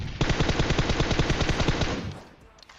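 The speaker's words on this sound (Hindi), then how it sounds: "लेकिन यार जो भी गन चलाई बहुत बुरी तरह चलाई, सीधा सर पे बजा दिया" Rapid automatic gunfire in the mobile shooter game PUBG Mobile, a fast steady burst of close, loud shots lasting about two seconds before cutting off.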